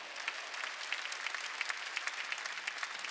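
A church congregation claps hands during a Sunday worship service, a steady patter of many hands at moderate distance, fairly quiet with no talking over it.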